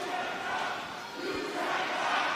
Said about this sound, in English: You hear the refrain from the crowd. You tapped out.